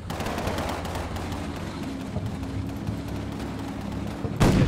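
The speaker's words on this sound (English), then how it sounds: "assault rifles galore" Assault rifle gunfire in the video game Combat Mission Red Thunder, rapid bursts of crackling shots at moderate distance over a low rumble, ending in a sharper, louder report.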